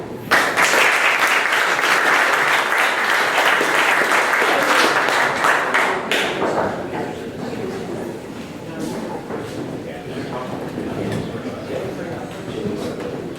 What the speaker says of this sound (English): please give a warm round of applause to Monica and James